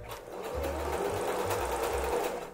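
A home sewing machine stitches a seam in a brief, continuous mechanical whirr with a rapid pulsing needle rhythm, close and alone, with no speech.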